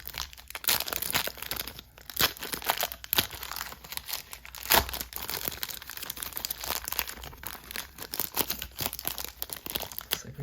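A football card wax pack is torn and crinkled open up close, with continuous rustling, crackling wrapper noise and sharp crunches throughout, no voices.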